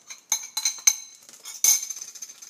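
A spoon scraping and clinking against a bowl while marinade is emptied into a bag, a few sharp bright metallic taps and clinks, close and isolated with no talk.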